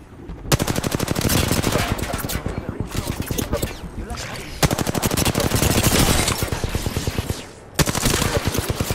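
Sustained automatic gunfire in Apex Legends on PS5, loud rapid bursts filling most of the stretch with brief gaps, faint voice chatter mixed in.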